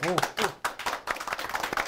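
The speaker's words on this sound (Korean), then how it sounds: "오늘 그 진행한 MC 분들께 박수 부탁드리겠습니다" An audience claps for the MCs at a Korean CEO talk event, a short burst of scattered hand claps with a voice speaking over them throughout.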